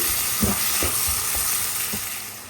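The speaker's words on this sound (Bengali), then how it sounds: "সেই জন্য এখন আমি চিংড়ি মাছটা দিয়ে ভেজে নিচ্ছি।" Prawns frying in a pan with oil for a pumpkin-greens and potato bhaji, a steady close sizzle and hiss with a few soft pops and stirring knocks.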